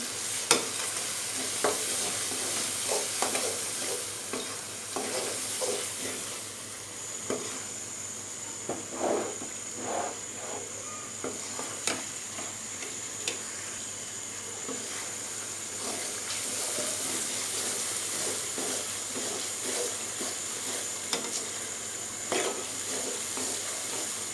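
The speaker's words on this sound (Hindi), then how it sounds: "अब इसकी अच्छे से भुनाई कर लेंगे।" Ground masala spices with cumin powder and crushed garlic roast and sizzle in a pan for masala bhindi, with steady frying hiss broken by repeated stirring scrapes and clinks close by.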